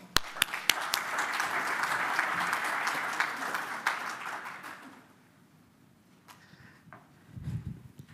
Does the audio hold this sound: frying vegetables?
no